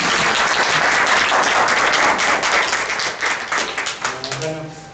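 Applause from an audience at a Tenochtitlan solar zenith passage ceremony, a dense, steady wash of many hands clapping together that holds loud for several seconds before thinning slightly toward the end, with voices mingling faintly in the crowd.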